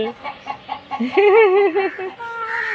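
Chickens clucking and squawking in agitated bursts while being caught, close and loud, with a rising alarmed call in the middle.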